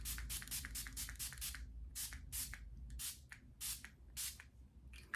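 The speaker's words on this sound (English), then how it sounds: "I'm gonna start with this toner that I got in the Kinder Beauty box. It's like a mist toner," Chamomile and rose mist toner spraying in a run of quick, soft hissing puffs, close but faint over a low background rumble.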